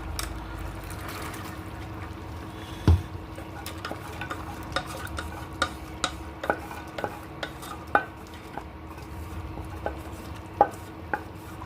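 Soaked chana dal lentils go into a pot of half-cooked mutton, with scattered sharp clinks and knocks of a spoon against the pot over a faint low simmer.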